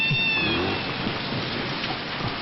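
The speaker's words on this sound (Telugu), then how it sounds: "వర్షం వస్తుంది కదా" Steady rain falls in a continuous hiss, with a brief high squeak or meow near the start and no talking.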